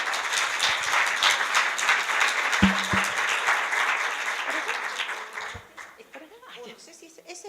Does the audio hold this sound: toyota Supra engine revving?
no